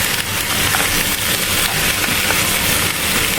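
Tomatoes dropped into a hot pan for mixed vegetables sizzle loudly and close, a dense steady hiss that holds unbroken throughout.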